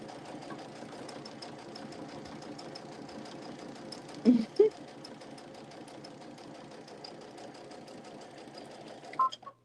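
Sewing machine stitching along fabric, a steady soft mechanical whir with rapid needle ticking throughout, a couple of louder clunks midway.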